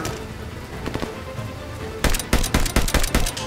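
Rapid gunfire rattles from a semi-auto STG rifle in a Vanguard World War II shooter game, faint pops at first, then a loud burst of sharp cracking shots in quick succession.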